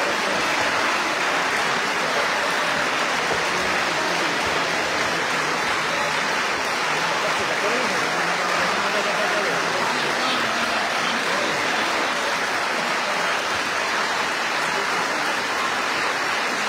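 Sustained applause in the Italian Chamber of Deputies, a dense, even clapping from many hands that fills the hall steadily without a break.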